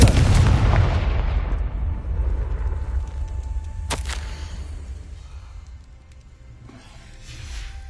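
Fiery blast from the Confringo spell in Hogwarts Legacy, a loud booming burst at the start that decays into a rumbling tail, followed by a sharp crack near four seconds and fainter crackling afterward.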